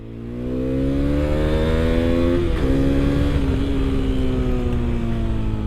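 A Hero Xpulse 210 motorcycle engine revs freely up and down, with a clear rising and falling engine tone that stays loud and close throughout, and no one speaks.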